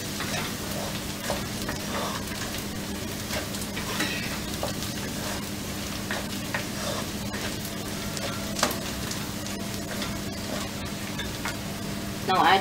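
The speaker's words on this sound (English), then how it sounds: "Now add red chili powder and turmeric powder." Red chili and turmeric powder hit frying saag in a pan, giving a continuous sizzle with frequent stirring scrapes and utensil taps, one louder clatter at the end.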